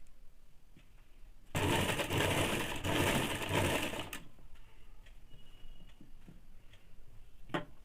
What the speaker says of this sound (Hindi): कपड़े को इस प्रकार से गोलाई से घुमा के इसे 1/2 इंच पे सिलाई कर देंगे।